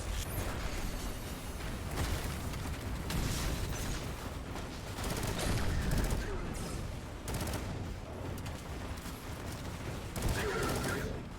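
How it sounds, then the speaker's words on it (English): Dense, continuous gunfire and explosions from a Destiny 2 battle form a loud, busy wall of bursts and booms throughout, with rapid rattling fire and voices talking over it. "Oh yeah, they drop bombs on us."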